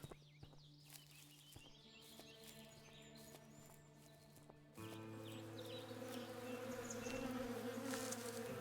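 Buzzing bees in the western survival game Above Snakes, a steady insect drone with a few light taps, growing thicker and louder partway through as the swarm closes in.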